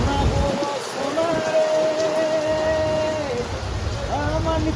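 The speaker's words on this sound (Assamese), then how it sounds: "আৰু আমাক পাই গ'ল বৰষুণে" Rain falling steadily in the background while a motor hums and people talk nearby, with a horn-like tone drifting over the middle stretch.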